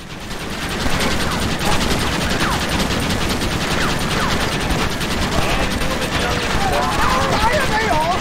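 Rapid, dense gunfire from Red Dead Redemption crackles continuously, many overlapping shots at steady high loudness, with faint voices and game sounds mixed underneath.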